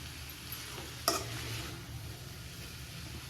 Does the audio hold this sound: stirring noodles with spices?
yes